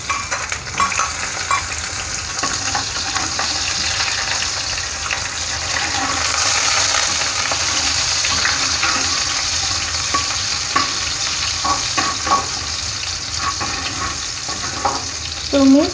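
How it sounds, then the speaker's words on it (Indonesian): Shallots and garlic sizzle in hot cooking oil while being stir-fried for a pea and mushroom dish, a loud steady crackling hiss with stirring scrapes throughout. "Panaskan minyak goreng, kalau udah panas minyaknya tumis bawang merah dan bawang putih."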